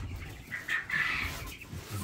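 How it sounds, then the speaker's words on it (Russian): A loose chicken on a farm gives a couple of short, close clucks over a low background rumble. "Ну что это такое? Сбежала курица."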